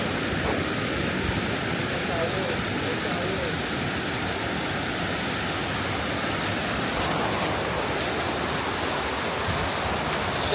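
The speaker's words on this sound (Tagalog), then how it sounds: "So, heto daw yung shower falls." The steady, broad rushing roar of Ditumabo Mother Falls in San Luis, Aurora, fills everything, loud and close, with a voice talking faintly underneath.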